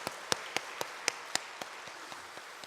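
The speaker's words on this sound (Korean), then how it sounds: "다시 한번 박수할까요?" Sparse, scattered clapping from a church congregation during an evening service, a few distinct claps at a steady pace over a soft background, fairly faint and thinning out.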